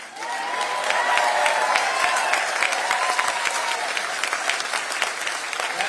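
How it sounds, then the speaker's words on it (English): Sustained audience applause at a political campaign speech, dense steady clapping from a large crowd that stays loud throughout, with faint voices mixed in. "That always gets a good amount of applause."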